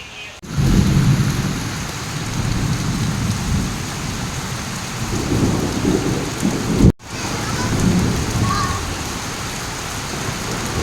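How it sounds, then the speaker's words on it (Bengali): Heavy rain pours steadily during a thunderstorm over a village, a dense continuous hiss with low rumbles of thunder rolling underneath. The roar briefly drops out once before carrying on. "হচ্ছে সেই লেভেলের বৃষ্টি"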